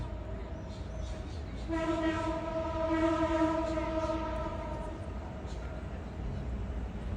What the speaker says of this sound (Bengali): স্টেডিয়ামের ঠিক পাশেই রেল লাইন সো ট্রেন যাওয়ার শব্দগুলো আমরা পাচ্ছি